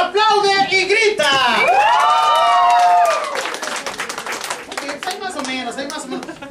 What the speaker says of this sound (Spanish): Esa es la tercera llamada y el público se aloca, aplaude y grita.